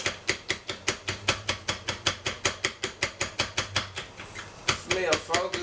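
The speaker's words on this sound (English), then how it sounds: "Alright, so we're going to cut this up." Knife chopping peppers finely on a board, a fast, steady run of about two dozen close, crisp taps, ending with a few scraping sounds.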